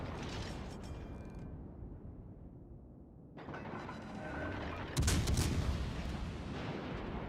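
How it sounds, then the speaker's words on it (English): Distant, muffled video game gunshots, faint overall, with a clearer burst of shots near the end over low rumbling background noise. "Now he's gonna shoot at me."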